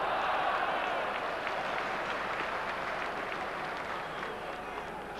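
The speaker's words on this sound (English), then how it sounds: "Applause there for Robbie Elliott" Football crowd in a 1993-94 Premier League match between Newcastle United and Swindon Town applauding Robbie Elliott, a broad steady wash of clapping and crowd noise that slowly eases off.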